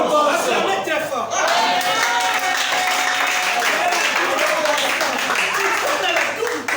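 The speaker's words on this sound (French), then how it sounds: "Acclamez très fort." A crowd at a French-speaking gathering claps and cheers loudly and steadily throughout, with a dense wash of hands and voices and some chatter mixed in.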